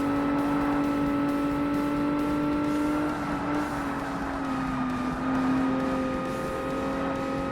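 An Audi S4 V8 race car drones at high revs in the 2005 Xbox racing game Forza Motorsport, a loud, steady engine whine holding near one pitch with slight dips and rises through the whole stretch, and nobody speaks.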